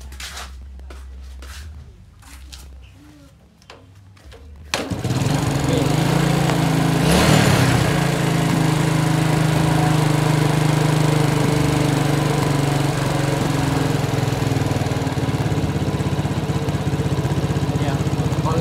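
A Yamaha Vega ZR motorcycle engine starts after about five seconds of quiet shop noise, then idles steadily and fairly loud, with a brief rev burst near the start.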